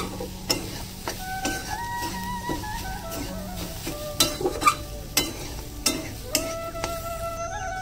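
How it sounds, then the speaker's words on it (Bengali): Chicken kochuri filling is mixed with gram flour in a pan, making a steady, soft scraping and stirring with light clicks over a faint background hum, and no one speaks. "এটা নিয়ে ভালো করে মাখিয়ে নেবো,"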